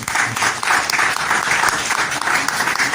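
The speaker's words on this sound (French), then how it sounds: "Acclamation pour ça, s'il vous plaît." Congregation applause at a church service, dense and continuous clapping from a crowd filling the whole moment, loud and close.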